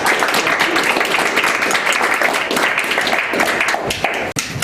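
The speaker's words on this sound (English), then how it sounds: "Let's give a round of applause." An audience at a city council meeting claps in a loud, sustained round of applause, steady and close, ending with a sharp knock just before the end.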